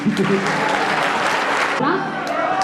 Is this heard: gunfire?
no